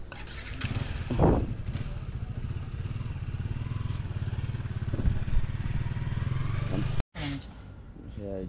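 Motorcycle engine idling nearby with a steady low throb and a brief revving swell, while people talk over it and a clatter sounds near the end.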